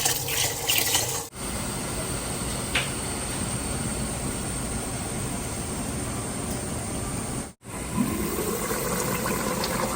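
Soaked basmati rice washed in water for chicken biryani, with a continuous rush of running, sloshing water close by and a couple of brief breaks.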